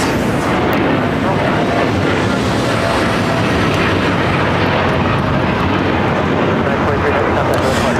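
United Airlines Boeing 787-9 Dreamliner taking off at LAX on a flight to London Heathrow, a loud continuous jet engine roar that fills the whole clip with rumbling, crackling intensity.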